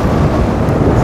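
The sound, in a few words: strong wind blowing on microphone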